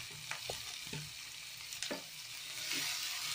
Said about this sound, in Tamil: வெங்காயம் நல்லா வதங்கிச்சுங்க